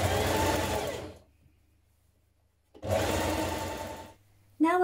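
A sewing machine hems a sleeve in two loud, steady runs of fast whirring stitching with a silent pause between them, heard up close.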